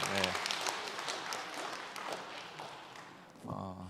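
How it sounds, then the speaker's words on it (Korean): A church congregation claps briefly, a soft scattered patter under a speaking voice that carries on over it and rises again near the end. "박수 한번 해주세요"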